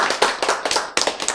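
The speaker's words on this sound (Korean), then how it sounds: "박수!" Audience at a lecture claps briefly: a quick, close burst of sharp hand claps in uneven rhythm, lasting just over a second.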